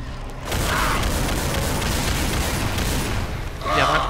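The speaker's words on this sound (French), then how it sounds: "je dose chaque coup de feu, du moins j'essaye" Gunfire in Doom: a loud burst of shooting opens the clip, a sustained roar follows, and another shot lands near the end, with a voice talking underneath.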